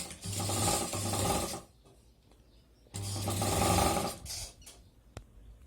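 Sewing machine stitching along the sides of fabric in two close bursts of rapid, whirring mechanical chatter, each about a second and a half long, separated by a quiet pause with light handling noise.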